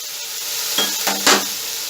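Sliced capsicum and a cup of carrots stir-frying in a pan for chicken fried rice give a steady hiss, broken by a few scraping stirs and light clinks of the utensil against the pan.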